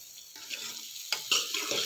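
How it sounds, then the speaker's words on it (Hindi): Soya keema with green peas frying in a pan, a soft sizzle with a few scraping stir strokes over under two seconds, fairly quiet and close. "और इसको अच्छी तरह हम भून लेंगे"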